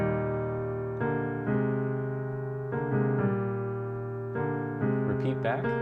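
Solo jazz piano plays the ballad coda of O Come All Ye Faithful, a slow series of sustained rich chords struck one after another, quiet and close, ending with higher ornamental notes.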